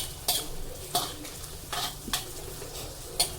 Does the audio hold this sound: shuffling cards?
no